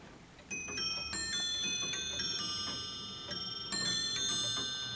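A walnut Queen Anne period longcase clock strikes, giving a run of clear, ringing chime notes with lingering overtones, each tone sustaining as the next sounds, moderately close in a quiet room.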